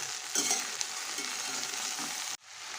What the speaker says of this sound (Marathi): भेंडीमध्ये मीठ टाकून भेंडी व्यवस्थित हलक्या हाताने हलवून घ्यायची